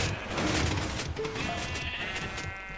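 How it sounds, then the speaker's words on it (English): Minecraft sheep bleating in a crowd, a steady wash of overlapping baas at moderate loudness, with a brief dip partway through. "Hello sheep."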